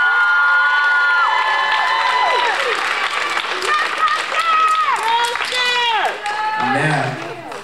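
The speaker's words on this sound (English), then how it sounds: "Y'all give them another round of applause." Loud applause and cheering from a school concert audience for beginner band students, dense clapping with shouts and children's voices rising over it, continuous and close, fading slightly near the end.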